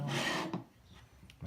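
A part of a GSG-5 rifle slides back and down off the gun during disassembly, a brief close rasping scrape of metal followed by a couple of faint clicks and light handling taps.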